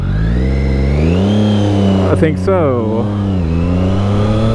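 A motorcycle engine rides through heavy traffic, droning and revving up and down close by while a person speaks briefly over it.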